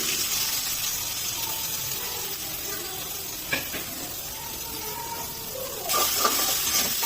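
Chopped onion frying in a little oil in a wok during village-style cooking, a soft steady sizzle and hiss with occasional stirring scrapes, faint and continuous, growing slightly louder near the end.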